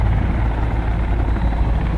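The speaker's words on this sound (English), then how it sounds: "That's a helicopter." A helicopter in the Sons of the Forest survival game drones with a steady, loud, close rotor and engine roar that holds level from start to finish.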